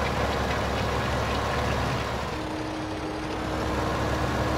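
A tractor engine idles steadily in a farming video game, a continuous low drone with a faint tonal hum joining partway through, no voices.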